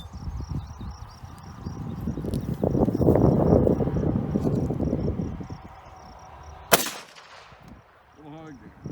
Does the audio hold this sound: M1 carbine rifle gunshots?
yes